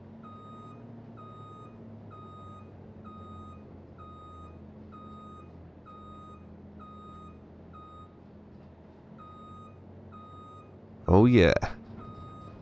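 Articulated lorry in a farming simulator game backing up, its reversing alarm beeping in a slow even rhythm over a low engine drone, then a short loud burst of noise near the end as someone speaks briefly.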